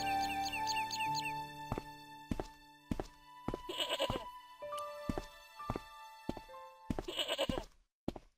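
A goat in the Broken Sword: Shadow of the Templars video game bleats twice in long wavering cries, set against game music notes and repeated knocking thunks.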